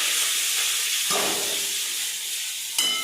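Onions and curry leaves, a mix of shallots and large onions, sizzle in hot oil with a steady bright hiss that briefly swells as more is added, close and continuous with no talk.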